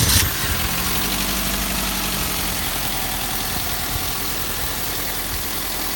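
A car engine idles steadily with a constant low hum and vibration, no voices, throughout.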